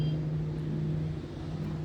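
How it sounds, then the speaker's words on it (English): A loud truck passing outside, heard as a steady, low engine rumble and drone that stays fairly even throughout, with no speech. "It was a loud truck going by."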